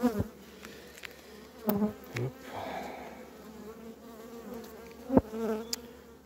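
Honeybees hum around a hive in a low steady buzz, with occasional louder passes close by and some handling noises.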